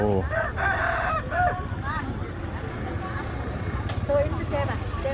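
Rooster crowing at a busy Vietnamese morning market in Dien Bien Phu, with several wavering crows rising above steady crowd chatter and traffic noise while people talk nearby.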